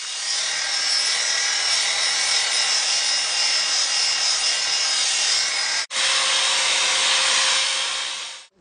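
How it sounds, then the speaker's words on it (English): A wet grinder with a 200 resin diamond pad polishing a countertop gives a steady, loud, high-pitched grinding hiss. It cuts out briefly near six seconds, resumes with a slightly lower tone, then winds down at the end. "We're going to start out with a 200 resin diamond pad on our wet"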